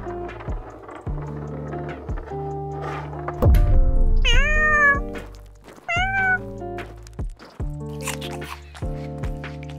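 Cats meowing indoors, several distinct close meows, some rising and drawn out, scattered among thumps and small household knocks.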